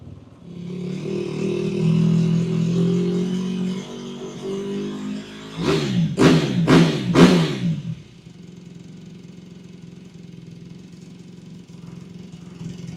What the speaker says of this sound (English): Team Honda over here warming up the motorcycle.